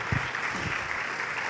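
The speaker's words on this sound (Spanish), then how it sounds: "Dame un aplauso al Señor por su vida." Congregation applauding inside a church during a Spanish-language service, a steady wash of clapping hands filling the room without pause.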